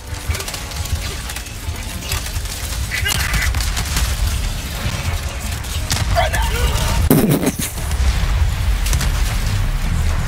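A Starship Troopers video game battlefield: a rumbling barrage of explosions and bursts of gunfire rolls on continuously, with heavier booms toward the end and occasional voices mixed in.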